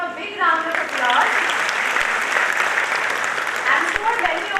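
An audience applauds steadily at an orientation programme award ceremony as speakers gather on the dais, dense clapping lasting throughout with a voice speaking over the start.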